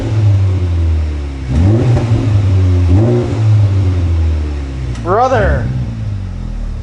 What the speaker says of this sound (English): got that nice bassy tone that Magnaflow gets